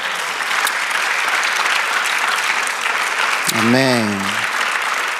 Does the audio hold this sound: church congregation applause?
yes